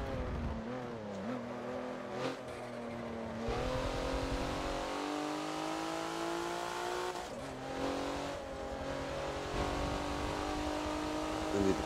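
A race car laps the Hockenheimring short track in the Forza racing game, its engine whining steadily through rising and falling revs with gear shifts and braking dips, continuous and close throughout.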